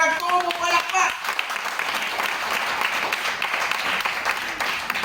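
A church congregation at a Cebuano-language service breaks into loud, sustained clapping after a brief spoken moment at the start, the applause filling the rest of the clip evenly.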